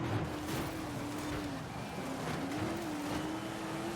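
Race car engines in the video game Forza Horizon 5 drone continuously throughout, one steady engine tone gently rising and falling in pitch at moderate volume, with no talking.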